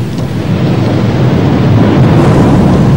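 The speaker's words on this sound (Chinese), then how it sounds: "师傅，你听着雷声真大呀。" Loud, continuous thunder-like rumbling in a Journey to the West fantasy film, a dense low roar that builds slightly and holds steady with no speech.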